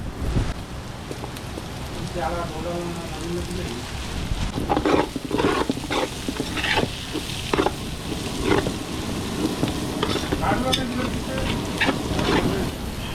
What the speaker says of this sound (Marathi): आता कांदा शिजवून झालाय तर याच्यामध्ये आलं लसूण टाकू आपण